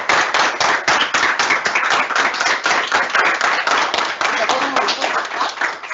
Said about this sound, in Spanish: un aplauso aquí para nuestra relatora